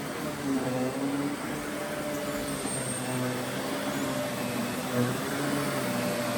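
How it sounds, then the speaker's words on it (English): A Kenmore Progressive canister vacuum cleaner drones steadily nearby, its motor humming at a constant pitch with slight wavering as it moves over carpet. "Especially when you vacuum this way."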